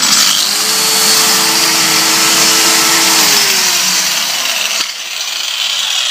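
An adjustable-speed mini grinder whines alongside a vacuum cleaner, both running together loudly and steadily for several seconds, then the grinder's tone drops away near the end as the vacuum keeps going.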